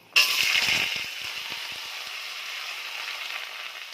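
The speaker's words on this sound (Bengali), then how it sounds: "এবার আমি লাউটাকে ঢেলে দেব।" Chopped bottle gourd drops into a hot oiled pan and bursts into a loud hiss, and the sizzle slowly settles into a steady frying crackle.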